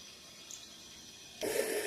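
Pine rosin infused oil pours into a glass, a brief soft liquid splash and hiss arriving abruptly near the end after quiet room tone.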